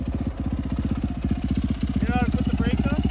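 An ATV quad engine idles in gear with a loud, rapid, regular chugging pulse, steady and close throughout, while a voice speaks briefly over it near the end.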